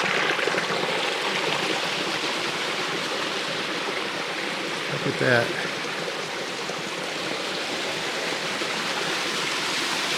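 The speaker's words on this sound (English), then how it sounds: "Got some more running water here." Steady rushing of a running stream at Tonto Natural Bridge State Park fills the scene throughout, with a brief spoken remark partway through.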